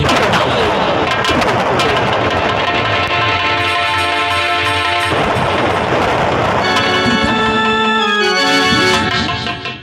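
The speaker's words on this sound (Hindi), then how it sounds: "फौरन गोली चला देना" Gunfire in a Hindi folk drama, sharp cracks and bursts over loud background music, with several shots scattered across the stretch and heavy reverberant booms mixed in.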